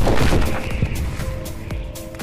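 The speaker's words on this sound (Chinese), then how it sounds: "此时又有数百发炮弹升空，为了躲避轰炸" Artillery shells fire in a film bombardment, heavy booms and dense cracking blasts overlapping into a loud, sustained barrage with no speech.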